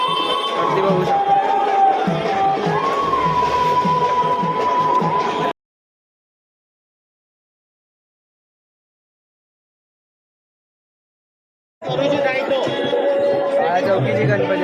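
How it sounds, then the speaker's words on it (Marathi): A crowd of devotees heading to Lalbaug for darshan during the Ganpati festival in Mumbai, a loud, close murmur of chatter and shuffling that breaks off into total silence midway and then resumes. "लालबागला जायची गर्दी, दर्शनाची गर्दी"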